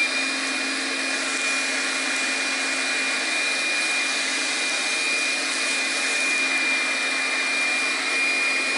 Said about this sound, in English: Just put your vacuum inside a small hole